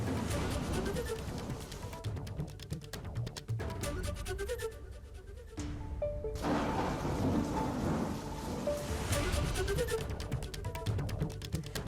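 Heavy monsoon rain pours in Vasai Virar, a dense, loud, continuous roar with deep rumbling of thunder rolling beneath it, briefly easing partway through before surging back at full strength.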